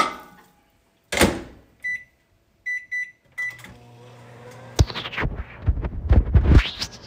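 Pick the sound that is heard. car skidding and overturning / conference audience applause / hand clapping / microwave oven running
microwave oven running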